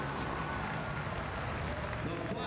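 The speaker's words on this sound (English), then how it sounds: "This crowd, it's got to help these riders push like that." Crowd noise fills the air at an extreme enduro race in Prescott, a dense, steady roar of cheering and voices from spectators, loud and continuous throughout with no clear pauses.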